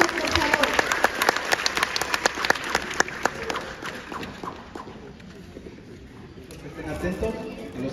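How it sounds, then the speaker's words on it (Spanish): Applause from an audience at a kindergarten graduation ceremony, a steady burst of many hands clapping that gradually thins and fades, with crowd murmur and voices talking underneath. "Para quienes pido fuertes aplausos"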